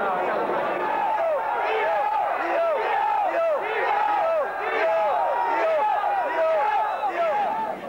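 Dense crowd murmur at a Singapore horse racing course, thousands of people chattering together in a steady, loud, continuous wash of overlapping voices.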